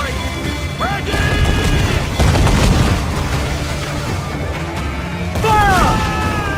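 A sailing ship fires a cannon broadside in Assassin's Creed Black Flag, with several heavy booms and crashes rolling out over a couple of seconds while voices shout among the blasts.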